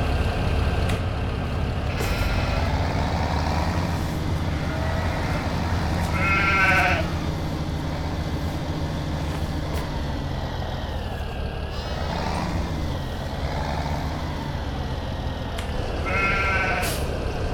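Sheep bleating in Farming Simulator 17, several distinct bleats spaced over a steady low engine rumble from farm machinery, moderately close, with no talking.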